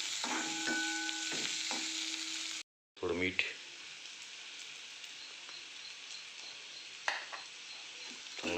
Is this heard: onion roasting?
yes